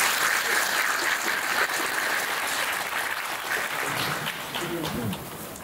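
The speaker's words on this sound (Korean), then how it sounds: "박수 한 번만 부탁드릴게요" Audience applause fills a residents' briefing hall for an apartment complex redevelopment meeting, steady clapping from many people that fades slightly near the end, with a faint voice underneath.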